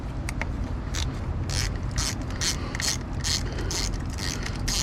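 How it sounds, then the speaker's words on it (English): A ratchet wrench turns an 8mm socket during a thermostat swap on a Jeep Grand Cherokee Laredo, giving steady close-up mechanical clicking in bursts under a constant low background rumble, with no talking. "This is an 8mm socket."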